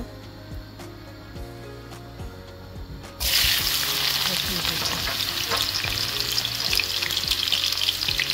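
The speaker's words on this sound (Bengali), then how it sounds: "বাগার দিব।" Garlic and spices hit hot oil for a Bengali tempering over greens, bursting into a loud, steady sizzle after a quieter start of light stirring and clinking, the frying roar holding close and continuous to the end.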